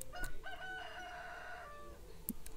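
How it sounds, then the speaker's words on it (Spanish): In Stardew Valley, a rooster crows once as a morning alarm, a drawn-out cock-a-doodle-doo over soft game ambience, with a brief high chime near the end. "Significa que el gallo me está levantando mi alarma."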